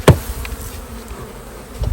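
Honeybees buzz in a low, continuous drone after a sharp knock from a tap on a hive frame at the start, with another bump near the end.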